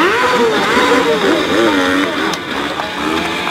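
Cars and motorcycles run past at the 2015 Chernihiv auto-moto show, including a rear-drive Nissan, with loud, steady engine roar and shifting revving tones throughout, partly under a commentator's voice.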